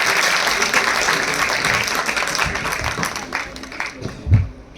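Loud, sustained applause from an audience at a school website inauguration ceremony, a dense wash of clapping that thins slightly toward the end, with a few voices mixed in.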